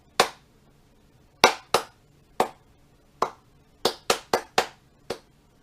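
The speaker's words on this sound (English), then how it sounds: "If I clap all random," Hands clapping at random with no steady beat: about ten sharp, close claps, some spaced far apart and others bunched quickly together, in an otherwise quiet room.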